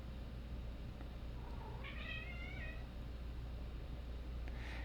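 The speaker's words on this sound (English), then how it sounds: "oh, my cat's going crazy" A house cat gives a single drawn-out, wavering meow, moderately loud against a constant low background hum.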